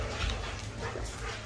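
Rottweiler puppies whimper and yip softly under a steady hum of fan or room noise, close by and fairly faint, over a brief stretch.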